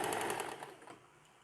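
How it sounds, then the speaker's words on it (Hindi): A domestic sewing machine runs a fast, steady stitching rattle while sewing a night pajama seam, loud at first and tapering off over about a second with no voices. "ऐसे ही मैं सिलाई लगा लूँगी, जैसे पहले लगाई थी मैंने"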